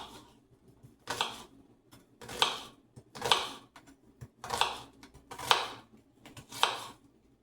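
A knife chops onion finely on a board in a steady rhythm of about seven crisp cuts roughly a second apart, close and moderately quiet, with faint handling noise between strokes.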